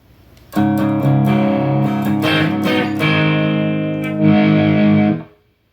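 An overdriven electric guitar through a JOYO Ultimate Drive pedal with the noise gate off plays a distorted chordal riff for several seconds, loud and gritty, then cuts off abruptly into silence.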